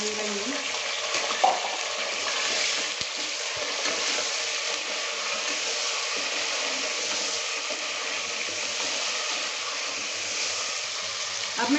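Meat being browned in ghee left over from browning onions, stirred in the pan, giving a steady broad sizzle with faint scraping, even and continuous throughout with no voices.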